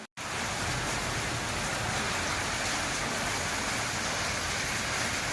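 Heavy rain in Coimbatore pours down in a dense, continuous roaring hiss that stays loud and unbroken after a split-second gap at the very start.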